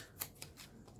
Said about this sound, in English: I'm going to tear this part also because I want the bird.